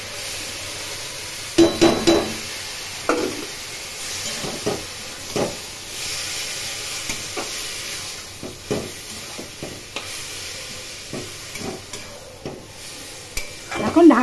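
Boiled bottle gourd going into a pan and being stirred, with scattered clinks and scrapes of a spoon against metal over a soft background sizzle, irregular taps spread across the clip.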